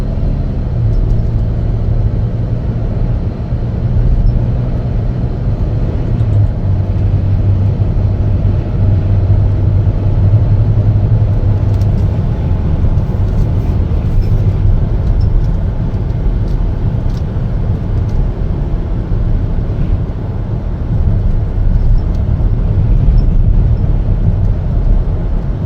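A 2020 Chevrolet Traverse AWD 3LT cruising along, its steady low engine and road rumble droning continuously from inside the cabin with no break in level.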